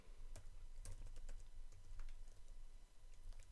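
Keys clatter in an irregular run as code is typed on a computer keyboard during a C++ programming session, a close, steady pattern of light clicks over a low background hum, with no talking.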